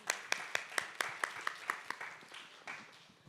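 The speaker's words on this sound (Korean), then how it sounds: "큰 박수 부탁드립니다." At a summit session introducing a moderator, a few distinct, evenly spaced claps ring out close by, then blur into softer scattered clapping before it dies down.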